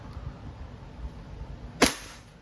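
A single sharp shot from a WE 2011 Hi-Capa T-Rex airsoft pistol, a brief crisp crack with a quick decay, standing out clearly against a quiet background.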